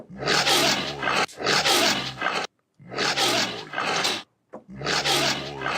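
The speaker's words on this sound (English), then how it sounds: "Or we can add in some lion growls." Deep, rumbling lion growls in four long bursts separated by short silences, loud and close with no other sounds.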